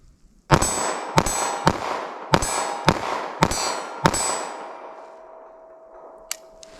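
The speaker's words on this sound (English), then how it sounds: "pop these off as fast as I think I can hit the target" A .380 ACP pistol loaded with Black Hills HoneyBadger rounds fires seven rapid shots at a steel target, each a sharp crack with a bright metallic clang, followed by a lingering ring that fades out.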